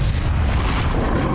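A Bombarda spell detonating in Hogwarts Legacy: a short, dense, booming blast that fills the whole moment with rumbling low end, loud and close.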